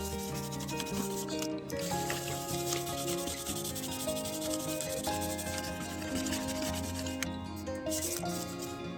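Soft, steady dabbing and rubbing as paint is pressed through a homemade DIY stencil, a continuous close scratchy texture running the whole time over tonal background music.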